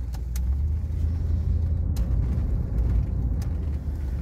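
A Mercedes W126 420SEL with a V8 engine drives along, heard as a steady low engine and road rumble from inside the car, with faint rattles and no talk.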